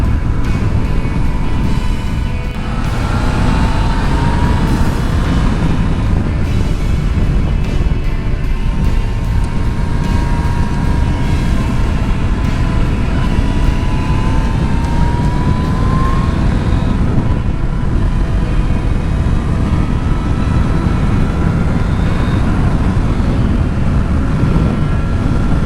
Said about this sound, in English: They've got great engines in these, plenty of power, really good engine, plenty of torque as well from low down